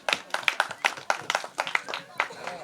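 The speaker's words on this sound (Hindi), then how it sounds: "ताली बजाए बच्चे।" Children clap in a quick, uneven patter at a trust's welcome event, fairly faint and close, with a voice talking over the claps.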